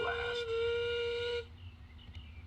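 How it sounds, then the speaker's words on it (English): A steam engine's whistle lets off one long, loud, steady blast in an animated scene, then cuts off, leaving quiet background sound. ""An engine's not an engine without a whistle," boasted Duncan. And just to prove it, he let off a big blast."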